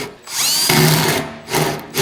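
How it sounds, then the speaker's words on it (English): A power drill fitted with a hole saw bites into material in two loud, close bursts, the motor whining up and cutting with a rough grinding tone, separated by a brief pause; no talking. "See if we can drill a semi-round hole"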